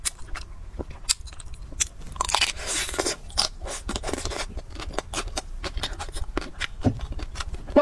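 Chocolate-coated sweet peach cake is bitten and chewed up close, giving crisp crunches and soft squelchy chewing in an irregular rhythm, with a few sharper cracks and no talking.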